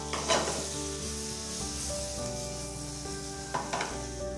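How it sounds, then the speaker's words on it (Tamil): Prawns tossed with salt in a frying pan for a pazha milagai (ripe chilli) prawn dish: a steady close sizzle with a few scraping stirs of the spatula, no talking. "மிக்ஸ் பண்ணிக்கலாம்."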